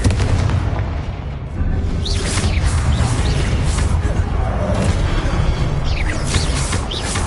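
Confringo explosive spell blasts in Hogwarts Legacy, a dense run of booming bursts and crackling impacts over constant combat noise, loud and close, with a faint voice now and then.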